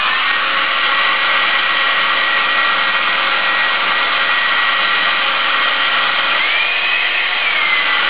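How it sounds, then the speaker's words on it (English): A hairdryer blows steadily and loudly at close range onto a component inside a Philips 37PF9975 TV, a constant whooshing roar with no talk. "So take this hairdryer and I'll heat up the component"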